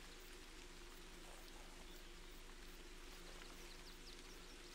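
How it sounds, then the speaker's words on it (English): Steady rain falls in a hunting simulation game, an even, dense hiss of droplets with a low hum beneath, continuous and unbroken with no voices. "the rain's going to cover my noise"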